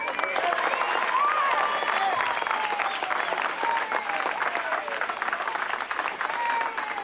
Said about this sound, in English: put together a big round of applause for Melvin Van Peebles.